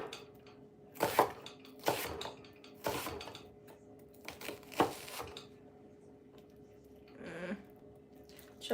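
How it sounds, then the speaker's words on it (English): Broccoli is chopped on a home kitchen cutting board with sharp, irregular knife strikes, followed by quiet gaps and a softer clatter. "Chopping broccoli."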